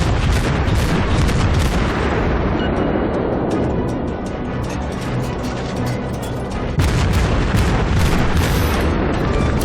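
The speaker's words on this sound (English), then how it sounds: "And with that barrage of shots, we set him on fire and kill him" Rapid, loud gunfire barrage from the US Tier 5 cruiser Omaha in World of Warships: dense overlapping booms and blasts pound on without pause for the whole stretch.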